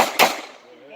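A single sharp pistol shot at a combat pistol match cracks out close and loud, followed by a short decaying echo with nothing else heard.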